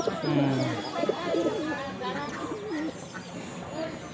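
Pigeons coo and warble in a busy, continuous chorus nearby, with a voice briefly audible in the mix.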